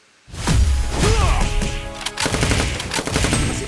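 Rapid bursts of gunfire in the fighting game Street Fighter Duel, loud crackling volleys that start abruptly and keep rattling with brief gaps, heard without talk.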